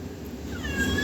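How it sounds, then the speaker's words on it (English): A house cat meows once, close by and fairly clear, a short rising mew over a quiet indoor background. "my cat's in the background"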